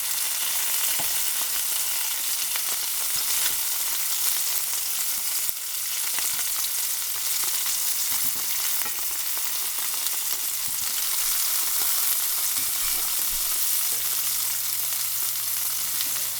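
Meatballs fry and brown in a cast iron pan with a steady, dense sizzle throughout, close and loud, with occasional faint clinks as they are turned.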